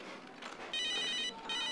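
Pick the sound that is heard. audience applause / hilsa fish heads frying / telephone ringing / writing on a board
telephone ringing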